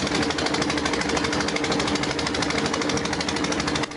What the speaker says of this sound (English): That's the sound of a chamfang at work